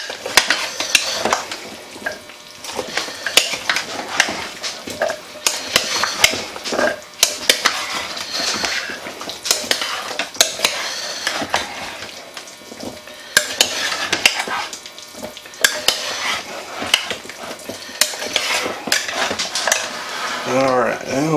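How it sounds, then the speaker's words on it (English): Guinness beef stew stirred in a pot, a continuous close run of scraping and clattering utensil strokes over a bubbling sizzle, with brief quiet talk here and there. "Get it all good and stirred up here."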